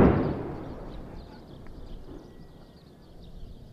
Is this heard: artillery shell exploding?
yes